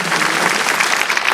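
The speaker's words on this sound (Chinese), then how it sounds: "掌声感谢总统致辞" Loud, dense applause from a crowd at a memorial ceremony for heaven worship and blessings at Chiang Kai-shek Memorial Hall, given in thanks for the president's address, sustained evenly through the whole moment.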